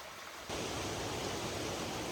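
A mountain stream babbles in a Northern Carpathian gorge. Its steady broadband rush swells abruptly louder after a quiet first half-second and then holds even, with no voices.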